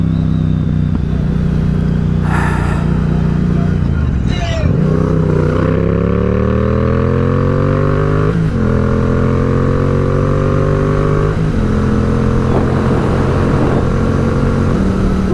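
A motorcycle rides through traffic at a steady loud drone, its engine pitch rising and falling through shifts, with a car passing nearby and a voice briefly talking over it.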